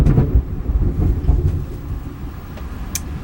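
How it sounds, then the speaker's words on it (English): Low rolling thunder rumbles in the distance, a dense, steady murmur that swells early and then fades slowly over a few seconds with no voices. "Ooh, thunder."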